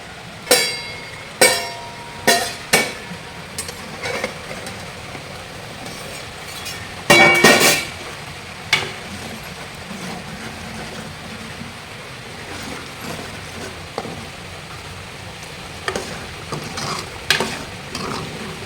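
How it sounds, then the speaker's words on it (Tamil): Tomato thokku bubbles in a pan while a spoon stirs it with a series of sharp scraping clacks, loudest in the first few seconds, over a steady low sizzle and simmer. "இப்போ இது நல்லா கொதிச்சு வந்த பிறகு நல்லா சூப்பராக தக்காளி சட்னி மாதிரி வந்துடும்"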